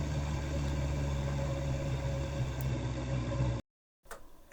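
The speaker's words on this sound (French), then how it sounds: "je pose ma CB, je coupe le moteur" A CFMOTO 675NK motorcycle engine idling outdoors beside a river, a steady low rumbling drone that holds evenly, then cuts abruptly to silence before faint ambient sound returns.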